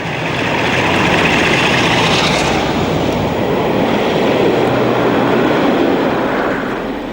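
A Class 45 diesel locomotive, number 45134, passes southbound at Kibworth Harcourt on the Midland main line, a loud, sustained roar and rumble of engine and wheels rolling by close.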